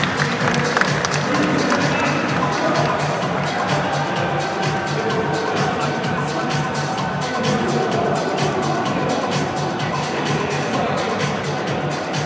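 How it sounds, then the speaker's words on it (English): A Gamescom audience at a Guild Wars 2 presentation applauds in a dense, continuous patter of clapping that fills the whole stretch with crowd noise. "a big applause for Isaiah Cartwright and Jonathan Charr."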